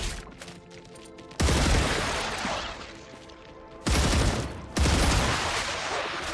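Rapid gunfire with piercing ammo rips through a StarRupture firefight against bugs, three loud sustained bursts of automatic shooting with short quieter gaps between them.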